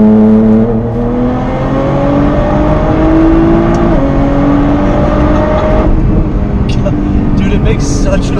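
A 600 WHP Nissan R35 GT-R accelerates hard and loud from inside the cabin, its engine note rising steadily through the gears with a brief shift dip, while a voice speaks over the roar.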